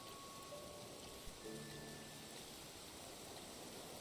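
Steady rain falls in the video game Infinity Nikki, a continuous soft hiss of drops spread evenly across the whole stretch, with faint musical tones briefly floating above it.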